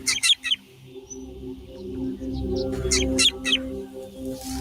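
A drongo in the Kalahari gives a false alarm call to meerkats: two quick groups of sharp, chattering calls near the start and again after a pause, fairly close, over a steady low background hum.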